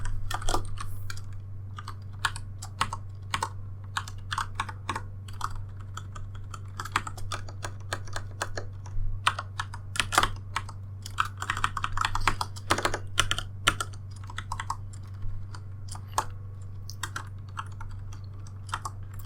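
A mechanical keyboard clacks in continuous, irregular bursts of crisp keystrokes over a steady low electrical hum, with no voices.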